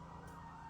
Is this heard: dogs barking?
no